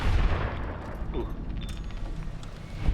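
Gunfire and explosive bursts from a firefight in the video game Fallout New Vegas, loud and dense, with heavy low booms at the start and end and a continuous rumble between them.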